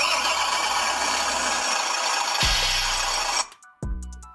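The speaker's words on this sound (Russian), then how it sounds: "Звук работы двигателя." A WPL radio-controlled truck's sound module simulates an engine being revved, giving a loud, steady buzzing drone that rises sharply in pitch near the middle before cutting off and briefly restarting with a few sharp clicks.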